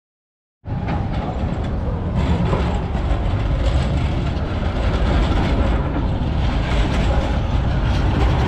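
After a moment of silence, a loud, steady rumbling rattle of an Istanbul tram rolling along rails, heard from inside, sets in and continues evenly, close and enveloping.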